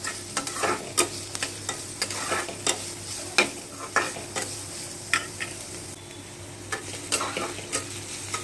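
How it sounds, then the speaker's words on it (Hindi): Onion frying for veg momo filling in a pan, with a low, steady sizzle under repeated sharp scrapes and taps of a spoon as it is stirred, about one stroke per second. "प्याज डालते हैं। इसको थोड़ा सा भून लेते हैं।"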